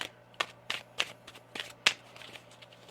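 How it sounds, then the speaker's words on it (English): Tarot cards being shuffled, a series of about six crisp riffling snaps spaced roughly evenly, close and fairly quiet, with no talking. "One more shuffle here."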